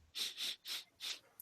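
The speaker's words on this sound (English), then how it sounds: "I'm sniffing like Trump." Four quick, breathy sniffs in a row, close and fairly loud, with short pauses between them.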